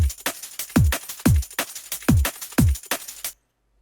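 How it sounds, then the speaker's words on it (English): Soloed electronic drum beat with punchy kicks sweeping down into deep low end and crisp snare or hat hits in a steady groove, loud and alone, cutting off abruptly into silence. "let's solo the drums first, and they sound something like this"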